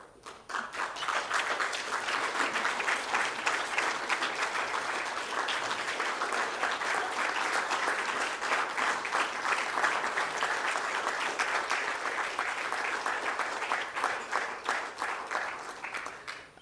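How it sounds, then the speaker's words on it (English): An audience applauds a report team at the State of India's Birds event, dense sustained clapping filling the room steadily from start to finish, without speech. "it would be great to have the team stand up over here so that we can applaud you"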